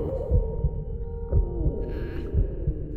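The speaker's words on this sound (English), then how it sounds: "Got a heartbeat." A heartbeat pulses in the video game Little Nightmares, with deep regular low thumps over a steady droning hum.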